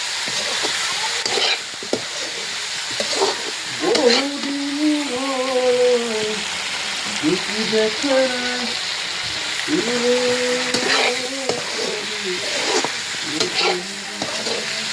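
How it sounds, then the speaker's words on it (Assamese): Chicken pieces fry and are stirred in a pan for chicken curry, giving a steady close sizzle with repeated scraping strokes, while a melodic voice or music carries on over it. "এয়া মাংস আৰু প্ৰথমতে ভালদৰে ভাজি ল'ম"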